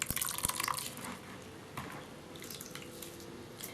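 Milky juice drips as grated coconut is squeezed by hand for a Caribbean cornmeal pudding, with a few soft liquid drips and splashes up close over quiet kitchen background.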